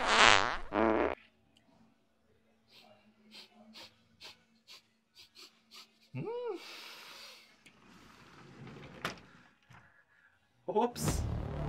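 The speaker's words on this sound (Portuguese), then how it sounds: "Eu morri por causa de um peido." A cartoonish fart sound effect, wobbly and drawn out, sits among other short effects and breathy snorts, with people talking loudly at the start and end.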